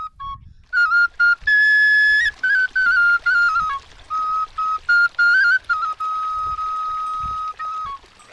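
A shepherd's flute (shpelai) plays a bright, piercing melody in short phrases of held and sliding notes, clear and close with brief pauses between phrases.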